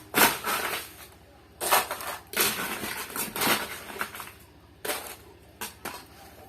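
Ice cubes scooped into a second glass, a series of sharp clattering, crunching bursts spaced a second or so apart, close and fairly loud against a quiet background.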